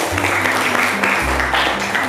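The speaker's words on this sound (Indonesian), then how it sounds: "Tepuk tangan untuk kalian semua." Students in a classroom clap together in a brief, dense burst, loud and close, with a low hum running underneath.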